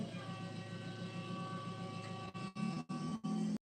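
A train rumbles past nearby with a steady low drone and rhythmic wheel clatter, growing louder near the end before cutting off abruptly.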